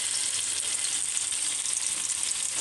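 Tomato paste sizzling in annatto oil as it is stirred, a dense even frying hiss close up throughout, with no talking.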